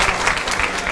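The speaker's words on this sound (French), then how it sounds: "Applaudissons pour Fall." A brief, lively burst of audience applause for the performer Fall at an art-and-surprise stage show, crowded clapping filling the moment.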